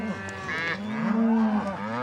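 Cattle moo at a ranch counting gate where cows and calves are tallied, one long, loud, drawn-out low moo up close with other bovine calls around it.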